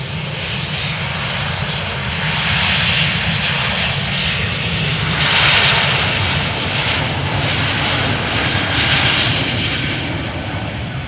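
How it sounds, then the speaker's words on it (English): A KLM Embraer E195-E2 bound for Hamburg takes off at Amsterdam Schiphol, its jet engines giving a loud, sustained roar that surges and pulses in the middle, heard alone without any talk. "E2 Embraer 195 to Hamburg will take off by the looks of it"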